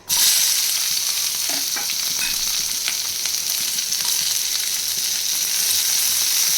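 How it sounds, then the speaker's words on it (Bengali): Chopped onions fry in a little oil in a pan with a loud, steady sizzle, close and continuous, with a few faint stirring clicks and no voices. "আমাদের পেঁয়াজগুলো ভাজা হয়ে গেছে"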